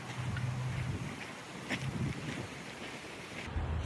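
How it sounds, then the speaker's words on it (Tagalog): Wind blowing outdoors during a walk, a rough, gusty rumble buffeting the microphone, with steady broadband noise rising and falling over a few seconds. "Mahangin."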